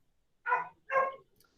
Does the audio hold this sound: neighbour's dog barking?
yes